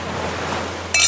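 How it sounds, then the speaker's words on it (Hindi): Waves break on a sandy seashore in a soft, steady wash of surf, and near the end a brief bright clink rings out like glasses touching. "लहरों की आवाज"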